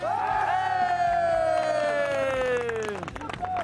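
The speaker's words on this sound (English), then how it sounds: "And the crowd was at it yet again, shouting for a yellow card there as Larsen caught up and won the ball" Spectators at a Sunday league football match on a home ground shout for a yellow card, a loud sustained collective cry sliding downward in pitch over a few seconds before fading into scattered voices.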